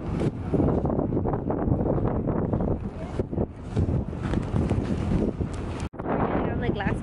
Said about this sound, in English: it's super windy, so the boat's going to be rocking a lot